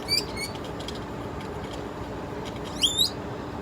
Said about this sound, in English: He's a noisy little bird.